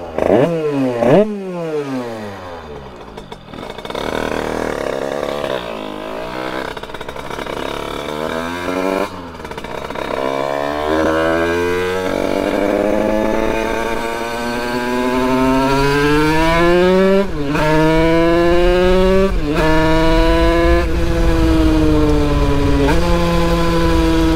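A Derbi DRD Pro 50cc dirt bike engine revs up and down repeatedly while riding, rising and falling in pitch as it accelerates, loud and close throughout with no talking.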